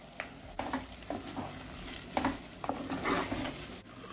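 Tomatoes sizzling as they are added to a frying pan and stirred, with scraping utensil sounds over a steady crackle.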